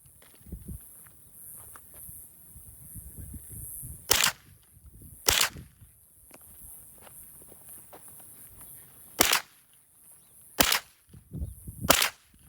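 Gunfire at an outdoor shooting range: five sharp, loud shots at irregular intervals over quieter shuffling footsteps and movement.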